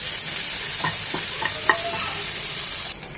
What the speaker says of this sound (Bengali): আমি ওই প্যানে সেদ্ধ করা ফুলকপিটা একটু ভেজে নেব